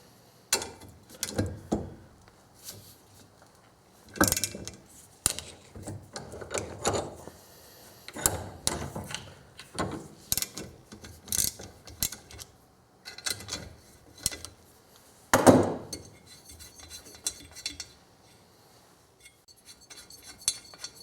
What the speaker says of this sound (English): Got to remove these 10mm bolts.